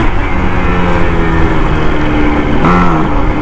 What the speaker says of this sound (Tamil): இது ஒரு சவுண்ட் எப்படி இருக்குனாக்கா, வண்டி உரும்புற மாதிரி இருக்குது.